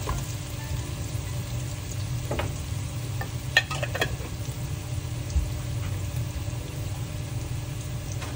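Garlic fries in a pan until browned, giving a soft, steady sizzle with occasional light clinks and scrapes from stirring, fairly quiet and without voices.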